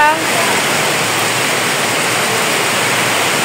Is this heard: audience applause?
no